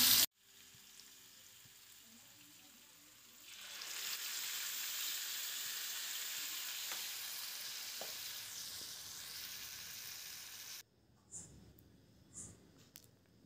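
Ginger, garlic and coriander paste fries in hot oil with a steady hiss that swells louder after a few seconds, broken by faint stirring clicks and a brief quiet stretch near the end.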